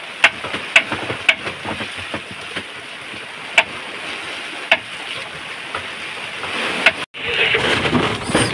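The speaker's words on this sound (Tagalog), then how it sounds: "Babugso-bugso lang naman mga guys ang ulan." Heavy, gusting rain during a typhoon out on the water on a fishing trip, with the wind building. A steady close wash of rain with scattered sharp taps, briefly cutting out near the end before returning louder, with no talking.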